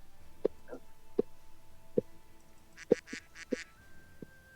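A duck quacks in a series of about seven short, evenly spaced nasal honks, moderately faint, with a brief rasping flutter between the calls.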